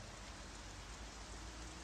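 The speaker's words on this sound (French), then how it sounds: "Le ciel est gris, il pleut, le vent souffle, il fait froid" Rain falls steadily on a grey, cold, windy October Sunday in Paris, a dense, even hiss that stays constant and fairly close, with no voices.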